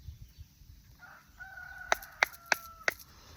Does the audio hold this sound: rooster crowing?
yes